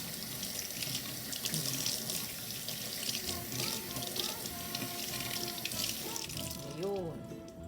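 Onions being washed in a kitchen sink under a steadily running tap, the water splashing continuously and close by, with hands shifting the onions and faint talk in the background.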